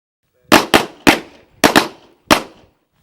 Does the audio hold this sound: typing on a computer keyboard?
no